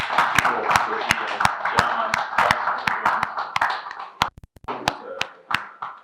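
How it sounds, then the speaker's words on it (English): Applause from a crowd fills the room, dense clapping that gradually thins into scattered individual claps near the end. "For that, you deserve a resounding applause."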